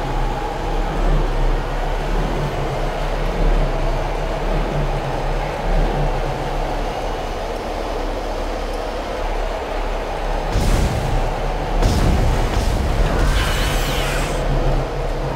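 A tram ride in Dead Space sounds as a continuous loud rumble with a steady low mechanical drone, then several bursts of hissing and clanking late in the ride, and no voices.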